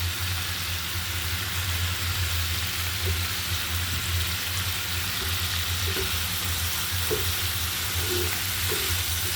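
Small pieces of hilsa fish roe frying with spices in a pan, a dense continuous hiss of hot oil like steady rain, close and even, with a few faint clicks of stirring, no voices.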